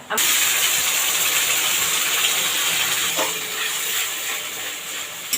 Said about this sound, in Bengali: আমি নরম হয়ে যাওয়ার পর আমি এবার দই দিচ্ছি